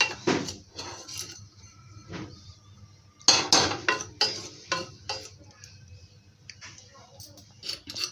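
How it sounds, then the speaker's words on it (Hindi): Besan being stirred and roasted in an Amway Queen cookware pan for laddu: close, irregular metallic scrapes and clinks of the spoon against the pan in uneven bursts, with a faint steady background between strokes. "3 से 4 मिनट चलाऊँगी। ये देखिए फ्राई हो रहे हैं।"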